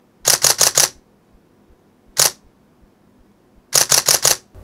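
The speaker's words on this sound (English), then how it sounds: "Now these are faster shutter speeds." Rapid camera shutter clicks in quick bursts: four fast snaps, a single snap, then another run of four, crisp and close with silence between.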